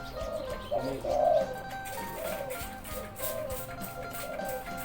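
A hybrid dove coos repeatedly in soft, rolling phrases at a steady pace, heard at moderate distance over light background noise.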